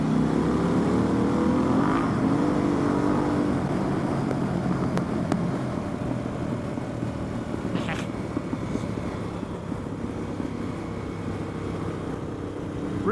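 A Harley-Davidson Pan America with a Vance & Hines exhaust idles and rumbles steadily with a deep, throaty exhaust tone, loud and close, with faint background noise throughout.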